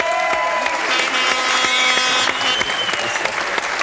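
Studio audience applause on a French television game show, brisk dense clapping throughout with a few sustained musical tones rising and falling underneath.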